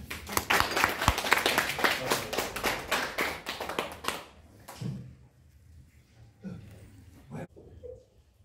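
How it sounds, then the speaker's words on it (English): An audience at a staged Stone Age caveman music show claps for the band, a burst of close, uneven hand claps for about four seconds that then fades into scattered taps and a few faint sounds. "Give hand for our band."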